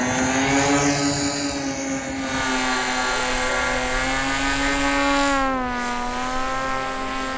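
RC VTOL model fighter plane, a Navy concept Martin 262 build, flying overhead with a steady high-pitched motor and propeller whine that holds a constant tone and shifts slightly in pitch, no talking.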